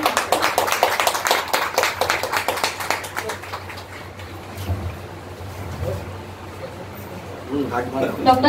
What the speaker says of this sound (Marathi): सर्वांनी टाळ्यांचा होकार देऊन